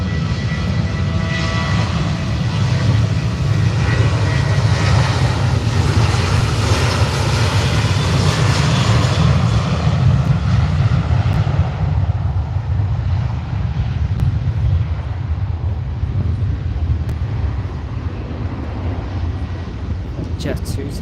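A Jet2 airliner at Manchester Airport roars loudly with broad engine noise that slowly fades as it moves away, someone talking over it at times.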